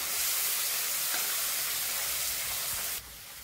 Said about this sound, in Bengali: এবার এই পেঁয়াজটাকে একটু ভালো করে লাল লাল করে ভেজে দিতে হবে